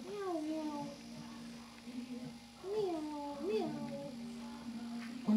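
A cat meows several times in a rising and falling pattern, mixed with a person imitating meows nearby; speech continues throughout alongside the cat calls.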